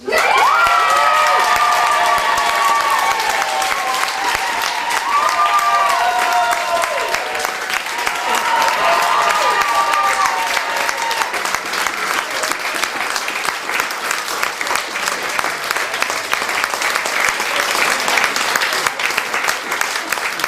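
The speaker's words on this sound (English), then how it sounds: "Please give a huge, warm round of applause for Andrea and Phil." A television studio audience at a Strictly Come Dancing ballroom final breaks into sustained, loud applause and cheering that fills the whole stretch steadily, with whoops and shouts rising over the clapping.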